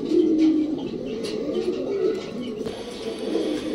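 A pair of semi jet pigeons, a brown-necked male and a green-necked female, coo softly and repeatedly at close range in low, rolling murmurs, with faint background chirps.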